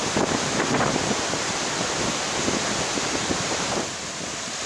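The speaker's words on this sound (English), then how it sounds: "Look at the size of waves coming in." Large waves break on the shore at Pictured Rocks, Michigan, in high wind with rain, a continuous roaring wash of surf mixed with gusting wind buffeting the microphone, close and loud.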